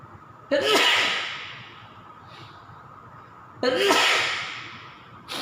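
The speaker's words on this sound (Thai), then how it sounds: "โอ้ยเดี๋ยวขอจามทีนึง" Two loud, sharp sneezes near the microphone, each a sudden burst that trails off, spaced about three seconds apart, from a man teaching auto body filler mixing at a vocational college workshop.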